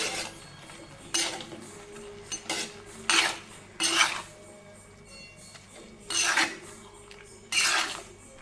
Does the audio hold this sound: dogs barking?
no